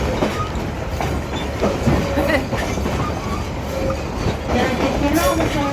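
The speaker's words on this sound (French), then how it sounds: "Regardez l'avant de la locomotive." A tourist train locomotive running on the Rio Tinto mines railway, giving a continuous loud rumble with rhythmic clickety-clack and faint wheel squeals, close by, with occasional voices underneath.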